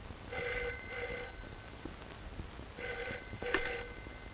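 A telephone rings in two double bursts separated by a pause, moderately loud indoors, with faint background noise between rings.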